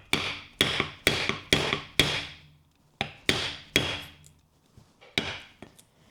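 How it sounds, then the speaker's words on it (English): A small hammer strikes a punch through leather in two bursts of sharp, woody knocks, five blows then four, close and fairly loud with short pauses between hits. "actually using this little hammer to get that through is not a bother"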